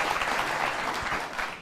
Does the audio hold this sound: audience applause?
yes